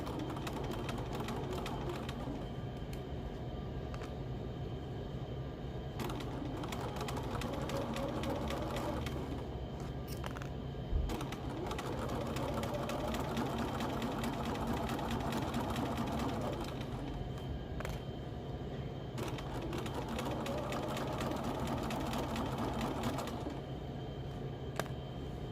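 A sewing machine runs in several bursts while stitching a scrub cap, its rapid rhythmic clatter close and steady. Short pauses fall between runs, and there are a few light clicks.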